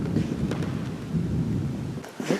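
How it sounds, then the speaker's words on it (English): Low, sustained thunder rumbles through a building at a night visit to an old grade school in Kampsville, a dense continuous roll lasting the whole moment with a brief dip near the end before swelling again. "Thunder?"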